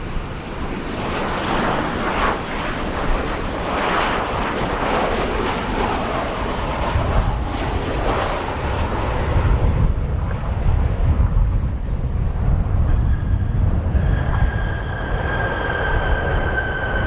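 A Copa Airlines Boeing 737-800 landing at O'Hare International Airport after a flight from Panama City, its reverse thrust a broad, steady, rumbling roar heard at a distance, swelling in the low end midway and then easing off, with no voices.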